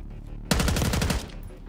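A sharp burst of rapid automatic gunfire in Call of Duty Black Ops 6 on PC lasts under a second, loud and close, then cuts to quiet.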